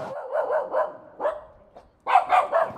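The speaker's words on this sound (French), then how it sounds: "les gens pensent que ce chien est agressif parce qu'il aboie" A dog barks in quick bursts of three, pauses briefly with a single bark in between, then lets out another close, loud flurry of barks.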